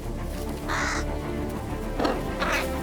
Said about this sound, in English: The feast has caught the attention of the crows' larger cousins, ravens.